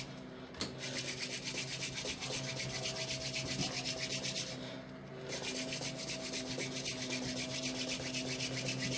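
Wooden hand drill spindle twisted fast between the palms against a wooden fire board for friction fire, a steady rapid scratchy rubbing with fast rhythmic pulses, faint and close, briefly pausing midway before resuming.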